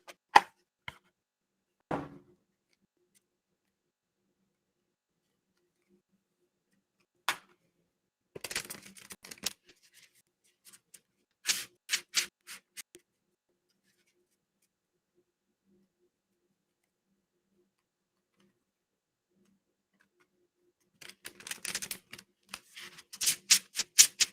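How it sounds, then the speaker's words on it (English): Tarot card decks being shuffled, crisp riffling and flicking bursts of cards separated by long silences, with isolated taps and a final run of clustered riffles near the end. "I'm just going to get decks a little more shuffled"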